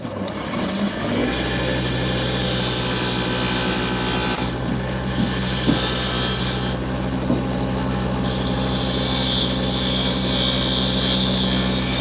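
A skew chisel shears wood on a spinning lathe, a steady loud rushing hiss with the motor's hum beneath, broken by a few sharper scraping bursts as the cut continues.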